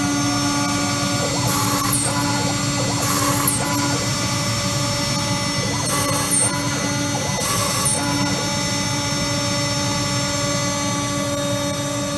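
A steady mechanical hum and whine from a CNC machine, with short high-pitched bursts recurring every couple of seconds as it drills into plywood. Close and constant.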